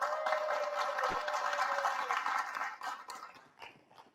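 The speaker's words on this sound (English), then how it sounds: "Would you guys give Vickie a round of applause?" A live audience applauds a woman named Vickie as she is invited onto a stage, a broad wash of clapping hands that holds steady for a few seconds, then thins and fades toward the end.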